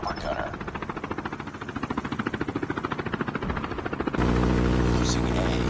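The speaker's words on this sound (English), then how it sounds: "Deployed chopper gunner." The chopper gunner helicopter in a Call of Duty Mobile Domination match thumps with a fast, even rotor beat throughout, then gives way to a steady, loud engine buzz near the end.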